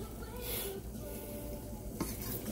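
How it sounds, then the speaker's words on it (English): Hot deep-brown gravy sizzles softly in a pan as water is poured in, a faint, steady hiss mixed with light stirring scrapes. "This stuff is hot and it sizzles."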